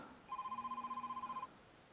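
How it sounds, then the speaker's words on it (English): A phone rings with an incoming call, one steady electronic trill of rapid pulses lasting about a second, moderately quiet and heard alone over faint background hiss, outdoors during spin fishing. "I will have to just ignore this phone call."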